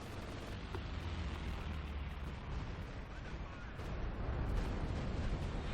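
Stuka dive bomber strikes land in the Company of Heroes 2 strategy game as a steady rumble of explosions and artillery, swelling louder toward the end under dense battle noise.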